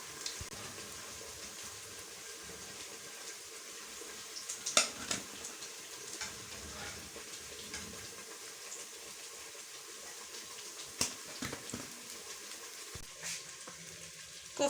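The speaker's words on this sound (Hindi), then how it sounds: "इसमें चम्मच हिलाते रहेंगे साथ साथ।" A spoon stirs kofta masala frying in a pan, a soft continuous sizzle with occasional faint scrapes and clinks against the metal.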